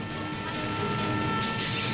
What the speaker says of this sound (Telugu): అరే ట్రైన్ వెళ్ళిపోతుంది